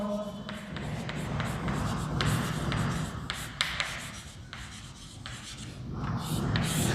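Chalk or marker scratching across a board during a chemistry lecture, a run of short rubbing strokes in an irregular rhythm, close and fairly loud, with no talking.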